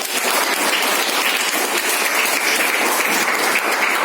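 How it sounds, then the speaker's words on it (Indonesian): A high school math class claps for a classmate, a brief burst of dense, lively hand clapping from many students in a classroom, steady and close throughout. "tepuk tangan dulu buat temannya."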